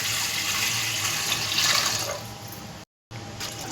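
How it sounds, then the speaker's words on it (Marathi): Water pouring steadily into a cooking pot holding 1 kg of chicken for biryani, a continuous close splashing rush that briefly cuts out near the end before resuming. "शिजवण्यासाठी आपण पाणी टाकत आहे"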